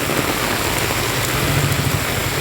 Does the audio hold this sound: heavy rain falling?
yes